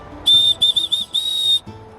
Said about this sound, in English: It's a little emergency whistle.